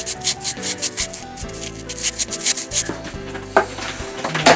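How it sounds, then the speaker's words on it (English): Repeated rubbing and scraping strokes of 600 grit emery paper slid under model railway rails, back and forth in an uneven rhythm, close up, with light metallic clinks now and then. "take some 600 grit emery paper and I'm just sliding it under here"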